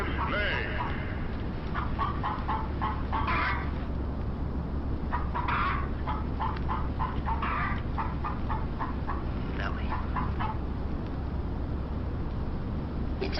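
A hen clucks in a film scene, with short repeated clucks scattered over a steady low hum while someone speaks over them.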